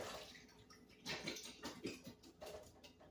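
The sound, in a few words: draining canned mandarin oranges in a strainer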